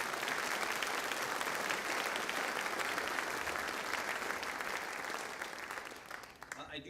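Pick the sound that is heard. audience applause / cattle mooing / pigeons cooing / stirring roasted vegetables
audience applause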